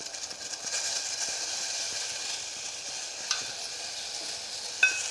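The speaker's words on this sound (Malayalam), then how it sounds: "ഒരു 5 മിനിറ്റ് നേരം ഈ തേയില ഇങ്ങനെ ഇളക്കിക്കൊണ്ട് നിൽക്കണം." Tea leaves stirred in boiling water in a pot, a steady bubbling simmer with soft scraping stir strokes and an occasional light clink, fairly quiet and close, no voices.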